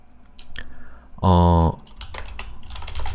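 Computer keyboard typing comes through as quick, close clicks in short bursts, broken by a brief steady tonal sound in the middle.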